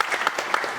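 Brief burst of audience clapping at a corporate tech talk, dense and steady through under a second, fairly close and unaccompanied by voices.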